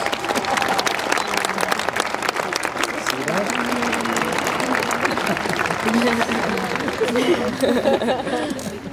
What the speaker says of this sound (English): So how about a nice round of applause for your parents?